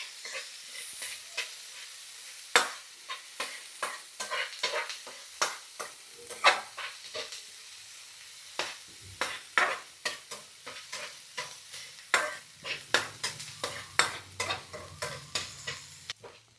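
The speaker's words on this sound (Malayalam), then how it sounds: "നന്നായിട്ടൊന്ന് വഴറ്റി കൊടുക്കണം കേട്ടോ." Onions and garlic being sautéed in a pan until brown, with a spatula scraping and tapping in frequent irregular strokes over a steady close sizzle and a low hum toward the end.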